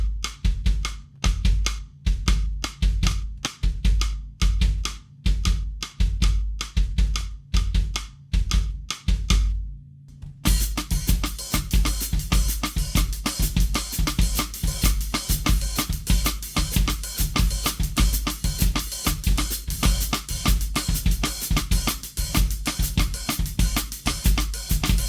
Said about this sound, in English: the partito alto samba has a rim click pattern